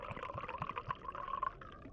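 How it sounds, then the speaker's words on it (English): Wine is poured into a glass in a short, faint gurgling stream that lasts about two seconds. "Being proactive by pouring the wine without me having to even ask."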